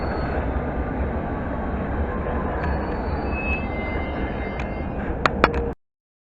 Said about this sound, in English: departing now is the London Underground Met Line service from Watford to Harrow on the Hill